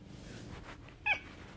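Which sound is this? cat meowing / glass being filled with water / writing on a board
cat meowing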